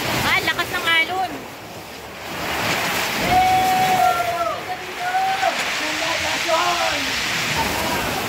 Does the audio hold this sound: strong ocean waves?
yes